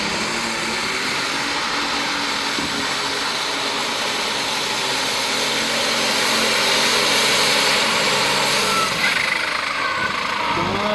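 Alcohol-fuelled 1066 tractor revving hard at a truck and tractor pull in Frederick, a dense, continuous engine roar that stays loud and steady throughout, heard from a distance across the arena.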